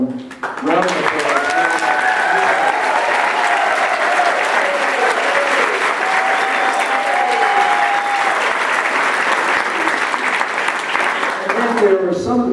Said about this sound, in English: So please would you give a really warm round of applause.